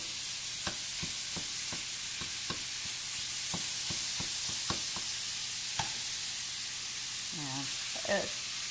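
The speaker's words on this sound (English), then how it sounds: "Get that hamburger in there. And we're also going to saute the onions." Hamburger and onions sauté in a pan under a constant broad sizzle, with sharp scraping clicks from stirring scattered throughout; a voice briefly murmurs near the end.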